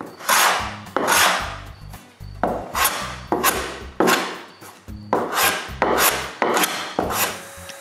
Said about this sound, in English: I make all the corners even with the end plane.